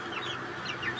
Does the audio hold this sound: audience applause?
no